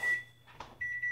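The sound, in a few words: toaster timer beeping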